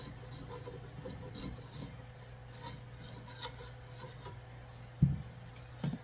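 Faint rubbing and rasping of a scraper working varnish off the edge of a wooden boat coachroof part on a bench, irregular short strokes over a low steady hum, with a couple of soft knocks near the end.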